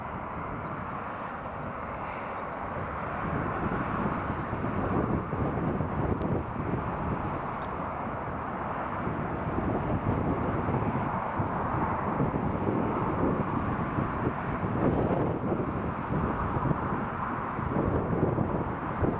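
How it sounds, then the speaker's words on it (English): A British Airways airliner pushing back at Newcastle Airport, a continuous distant rumbling roar of engines mixed with buffeting wind noise on the microphone, steady throughout. "British Airways pushing back now."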